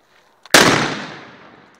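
A homemade explosive bag, tossed into the air, detonates in a single sharp, loud blast after near silence, then a long crackling rumble and debris hiss fade away over a second or so.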